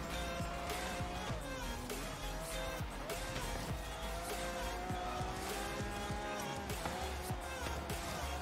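In the Forza Horizon 3 racing game a car slides out, its tires skidding and squealing over a loud engine roar and game music, sustained and dense throughout.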